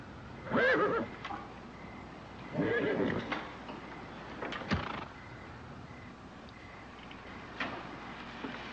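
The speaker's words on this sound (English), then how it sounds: "I heard that horse in nickering" A horse nickers in a few low, fluttering bursts spaced apart, fairly close and clear against a quiet background, with no talking.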